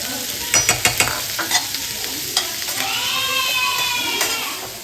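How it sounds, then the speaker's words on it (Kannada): Ingredients frying in a pan while pasta is being prepared, seasoned with salt and pepper: a steady sizzle runs throughout, punctuated by several sharp stirring clatters and scrapes near the start, with no voices. "ಸ್ವಲ್ಪ ಫ್ರೈ ಮಾಡಿ ಇದನ್ನು ಸಪ್ರೇಟಾಗಿ ಎತ್ತಿಟ್ಕೊಬೇಕು"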